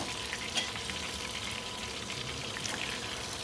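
Meat frying in a pan with a steady, close sizzling hiss and small crackles throughout, and no talking.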